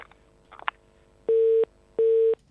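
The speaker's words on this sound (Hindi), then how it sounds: "फोन की घंटी" A telephone ring tone sounds twice, two steady electronic bursts of about a third of a second each, after a brief faint clatter, with no one speaking.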